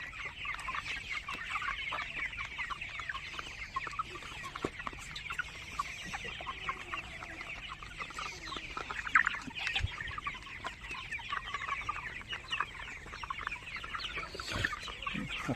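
A flock of young tiger chickens clucks and chatters continuously at close range, with occasional sharper squawks over a steady farmyard murmur and no talking.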